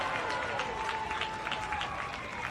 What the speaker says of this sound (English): you can hear the crowd starting to back Japan a little bit